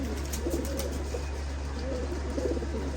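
Soft cooing from a pigeon held in the hand for an oral vaccine, low repeated coos close by over a constant background hum.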